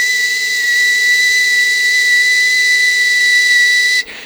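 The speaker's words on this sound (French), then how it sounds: "si je me mets à siffler" A steady, sustained high-pitched whistle held at one note, around 1969 Hz, for about four seconds, close and loud, then cutting off abruptly.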